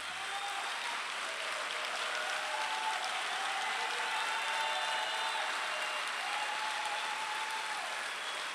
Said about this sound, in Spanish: Vamos a aplaudir a Cristina, por favor.